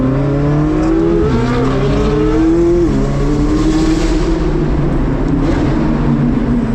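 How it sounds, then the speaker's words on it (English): Several powerful supercar engines, including a Lamborghini Reventón, Koenigsegg Agera RS and Koenigsegg Jesko Absolute, drone loudly together in a steady rolling convoy, pitch rising and falling as they shift and accelerate close by. "rolling out with a Reventon in the front, an Agera RS behind it, and Zach in the Jesko Absolute behind that."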